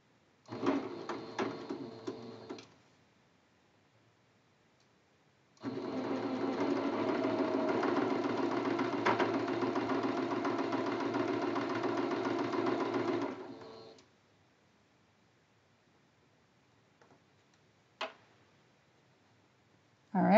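A sewing machine chain piecing churn dash quilt blocks runs in two bursts, a short one at the start and a long steady run in the middle, with quiet gaps and a brief click near the end.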